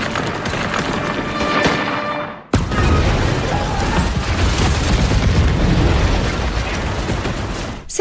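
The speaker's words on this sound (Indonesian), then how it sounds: "tiba-tiba ada yang nembakin granat ke prajurit itu" A grenade blast in a battle scene from the ape film Rise of the Planet of the Apes: a loud, sustained roaring rumble breaks off in a sudden sharp cut, then a second dense wall of explosive noise carries on to the end.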